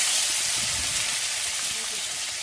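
Whole spices, fennel, cumin, fenugreek and nigella, sizzle in hot oil as a bright, steady hiss close by, with faint stirring under it.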